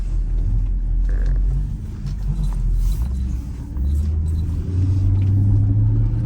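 A 2003 Mercedes fitted with a coilover conversion drives along with a deep, steady engine rumble and rolling road noise, rising slightly toward the end.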